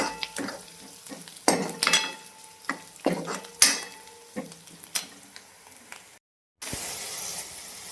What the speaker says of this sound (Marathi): ह्याच्यात आता मी टाकली डाळ डाळ पण थोडीशी भाजून घ्यायची